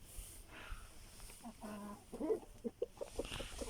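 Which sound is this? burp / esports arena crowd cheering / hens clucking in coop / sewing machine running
hens clucking in coop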